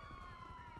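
A police car siren from the GTA 5 video game gives a sustained wailing tone that holds steady and slowly falls in pitch, fairly quiet and distant, with no voices over it.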